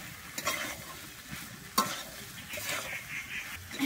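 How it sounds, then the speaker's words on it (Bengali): Yellow peas and potato stir-fry in mutton fat, a soft continuous sizzle broken by scraping spoon strokes against the pan, close and fairly quiet. "খুব ভালো করে এখানে আমি কষিয়ে নেব"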